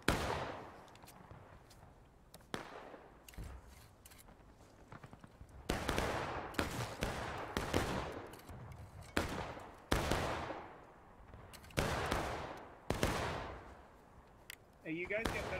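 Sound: rifle gunfire in a Civil War skirmish video game

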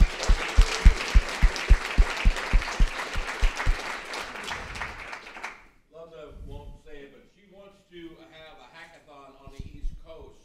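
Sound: applause for a helper

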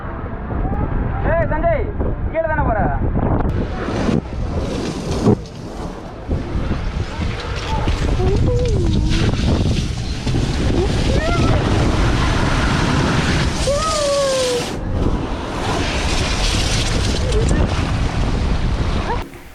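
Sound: theme park water ride in an air-filled tube

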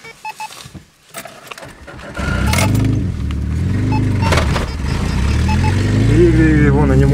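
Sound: car driving

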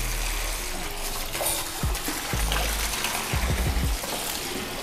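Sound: water poured over a monitor lizard in a bathtub

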